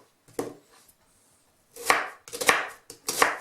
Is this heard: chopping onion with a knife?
yes